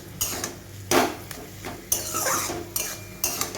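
Shola kochu (arum) stir-fried with coconut and mustard in a pan, with a spatula scraping and clanking against the metal several times in uneven strokes over a faint sizzle, close and with no talk.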